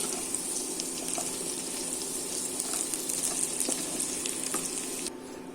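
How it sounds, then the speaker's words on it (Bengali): Potato cubes sizzle and crackle in leftover oil in a pan, a steady close frying hiss with faint stirring clicks for a vegetarian soya cutlet curry. "এবারে আলুগুলো হালকা ভেজে নিয়ে তুলে নিচ্ছি।"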